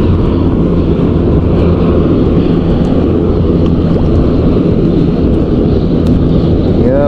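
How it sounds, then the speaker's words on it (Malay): Helicopter flying overhead a river fishing spot in Malaysia, a loud, continuous low rumble that stays steady throughout and masks other sounds, with no speech. "Helikopter."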